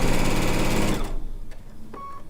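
A sewing machine fitted with a quarter-inch foot runs fast while piecing a quilt top, a loud, close, even mechanical whir that stops after about a second, leaving faint clicks and a short tone.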